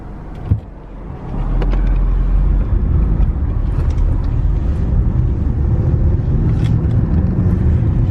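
Car driving through flooded streets after Hurricane Idalia on Florida's west coast, a steady low road and engine rumble that swells after a brief thump and holds constant throughout.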